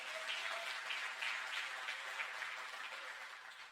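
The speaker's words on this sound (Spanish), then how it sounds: "Dale un aplauso al Señor." A church congregation applauds during a Sunday service, a faint, soft patter of many hands heard from a distance and gradually fading.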